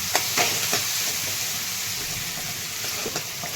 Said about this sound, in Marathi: असं तेलामध्ये छान असं परतून घ्यायचं. आपल्या असल्यामुळं बारीक केलेलं टमाटर छान असं परतून घ्यायचं.